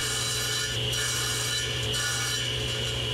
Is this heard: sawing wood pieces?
yes